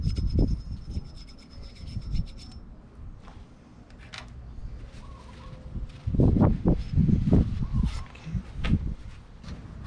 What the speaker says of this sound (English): I just use a razor blade just to scrape off all of this crud